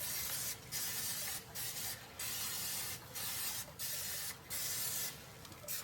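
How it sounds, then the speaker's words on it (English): Short hissing bursts of cooking spray onto fish on a grill repeat several times at a steady rhythm over a constant background sizzle. "We're going to hit it with some Pam spray."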